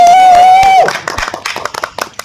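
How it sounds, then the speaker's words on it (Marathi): Audience applause for actor Ravi Prakash at a press meet: a brief sustained tonal note gives way to scattered, uneven claps from a modest crowd, moderately loud and fading in density. "रवी प्रकाश यांच्यासाठी एकदा जोरात टाळ्या वाजवा"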